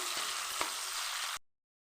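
Dried red chillies and curry leaves sizzle in hot tempering oil with a steady close crackle and a couple of sharper pops, cutting off abruptly after about a second and a half.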